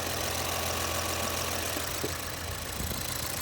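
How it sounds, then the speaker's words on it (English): A 2010 Lincoln MKS 3.5 V6 engine idles steadily and evenly after a balanced flywheel repair, a constant low mechanical hum with a faint knock near the end. "Engine running perfectly, because of course we balanced the flywheel."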